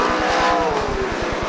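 Sprintcar racing past at Speedway City, Adelaide, a loud close engine blaring with rapid pulsing firing beats and a slightly falling pitch as it goes by.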